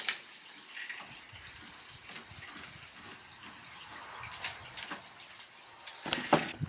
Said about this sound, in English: we're just draining all the water out of it.